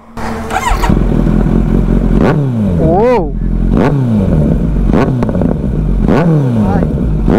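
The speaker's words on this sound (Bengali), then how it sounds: "চলো এবার অ্যাক্রাপুবিকের অরিজিনাল এক্সজস্টের সাউন্ড এবার চেক করো" Kawasaki Z900 motorcycle fitted with an original Akrapovic exhaust, revved up close in repeated sharp blips that rise and fall over a loud idle, with a brief voice heard over the engine.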